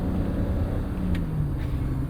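Cabin drone of a 1987 BMW 325is with a five-speed manual as it shifts from third to fourth, a loud steady low engine and road rumble with the engine note dipping and settling at the change, no voices.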